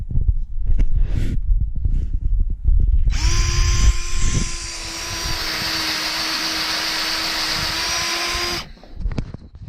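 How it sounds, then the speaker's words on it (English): An electric drill fitted with a depth gauge bores holes for edible mushroom cultivation in rural Portugal in winter: after some close handling knocks, one steady, loud motor whine runs for about five seconds, then stops abruptly. "I'm going to drill up these holes"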